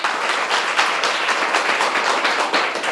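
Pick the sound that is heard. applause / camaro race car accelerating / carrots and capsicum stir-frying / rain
applause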